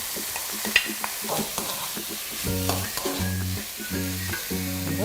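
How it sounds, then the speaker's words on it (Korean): Mushrooms stir-frying in a pan, joined by squid for a mushroom anti-cancer dish: a steady close sizzle with repeated scraping and stirring strokes, clattering in a regular rhythm through the second half, with no voices. "자, 어느 정도 볶아진 다음에 이제 준비해 놓은 오징어를 넣어주세요."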